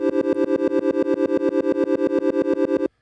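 Bright Pico-8 chiptune notes with a fade effect pulse in a rapid, even rhythm with a wavering processed tone, then cut off abruptly near the end.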